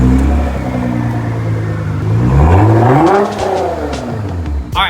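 A Nissan GT-R engine with a titanium exhaust revs hard nearby, rising and falling in pitch with a deep rumble, then a sharp pop and crackle at the end.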